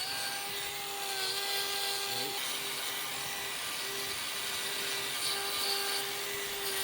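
A grinder whines steadily as it trims overgrown hoof horn from a cow's outer claw, a continuous high buzzing drone with slight shifts in pitch as it bites into the horn.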